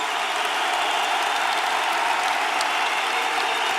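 Steady, dense applause fills a crowded Podemos political rally hall, a loud unbroken wash of clapping that holds at an even level throughout with no voices rising above it.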